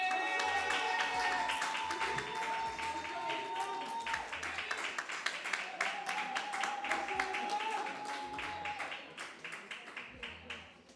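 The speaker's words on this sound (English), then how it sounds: "May I request we clap once I finish the name and surname?" Audience applause at a graduation ceremony, a broad wash of many hands clapping throughout that thins into scattered claps near the end, with a voice over a sound system speaking above it.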